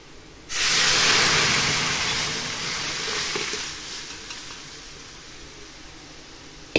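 Red lentils dropped onto fried onions in a hot pan erupt into a loud, bright sizzle that starts abruptly and slowly settles into a steady hiss, with no talking.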